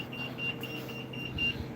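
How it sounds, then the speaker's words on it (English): A shop entrance buzzer sounds as a string of short, thin electronic beeps repeating at a steady pace over low room noise, fairly quiet and with no voices. "The buzzer went off."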